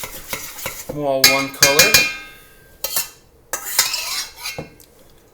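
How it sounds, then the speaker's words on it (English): Purple school glue slime stirred in a bowl, with several loud scraping clatters of a utensil against the container in bursts, and a short stretch of talk partway through. "I'm going to continue stirring it for a little bit to get"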